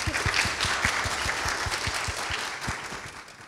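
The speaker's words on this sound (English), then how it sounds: "we're gonna say it again and do a round of applause" An audience at a health-data symposium welcome session applauds an award winner, a dense, steady wash of many hands clapping at moderate distance, with a few sharper individual claps standing out and the sound easing slightly toward the end.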